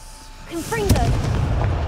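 A Confringo blast fires in Hogwarts Legacy, a booming burst with crackling flame that rolls into a sustained rumble, with a spell cast aloud just before it.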